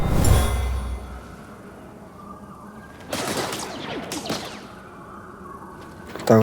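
Bursts of blaster gunfire and explosions in the video game Star Wars Jedi Fallen Order, a loud crack at the start followed by rapid volleys mid-clip and another sharp burst at the end over ambient game sound.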